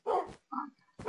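A dog in a farm-themed video game gives two quick barks, then a short higher whimper, then another bark, all clear and close.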